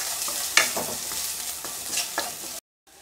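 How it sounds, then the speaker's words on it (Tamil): Onions, curry leaves, green chili and ginger sauté in hot oil for wheat vermicelli, a continuous close sizzle with scattered stirring scrapes before a brief silent gap. "இது கூட கருவேப்பிலை பச்சை மிளகாய் இஞ்சி சேர்த்திருக்கேன் நல்லா வதங்கட்டும்"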